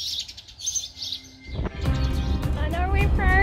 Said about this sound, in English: That's where all those birds went